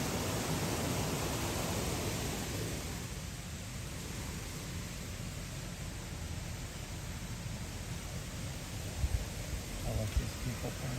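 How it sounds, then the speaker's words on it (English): Steady broadband rushing water from a small waterfall in Sidney, Ohio, heard from a short distance during an electric trike ride, continuous throughout with a few faint bumps near the end. "You can hear a little waterfall or something down there."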